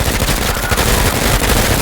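Submachine gun fire in the tactical game Menace, a loud dense burst of rapid close-range shots running without pause and with no speech over it.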